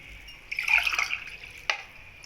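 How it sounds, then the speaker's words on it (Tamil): Half a cup of water pours into a pot while kalkandu pongal is being made with rice and milk. A short, quiet splashing trickle is followed by a brief separate splash. "நான் தண்ணி 1/2 கப் ஊற்றுறேன்"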